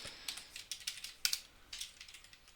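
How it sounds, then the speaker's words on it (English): Random keys pressed on a computer keyboard during a dungeon-crawling game, a quick, uneven run of light clicks and taps close by, heard alone with no talk. "Pressing all sorts of random keys."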